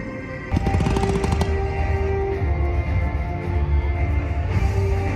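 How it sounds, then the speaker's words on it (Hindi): Fireworks show bursting during a trip in Vietnam, a dense loud volley of crackling, popping blasts that starts abruptly and keeps rolling without pause. "भाई बेस्ट फायरवर्क्स का शो आज तक का भी है ये"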